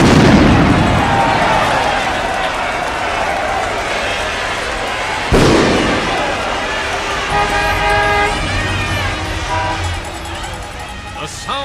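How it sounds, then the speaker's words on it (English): New Year's Eve revelry fills Times Square, caught in stereo: a loud, churning wall of crowd noise and honking horns, with a sudden burst like a blast or firecracker midway and bright tooting noisemakers drawn out over the latter half. "The sound of New Year's Eve in stereo."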